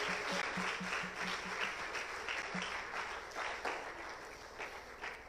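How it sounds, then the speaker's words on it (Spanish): A church congregation applauds, a dense and steady wash of many hands clapping that fills the room, with faint voices and music underneath. "Eso es, aplaudamos la palabra de Dios."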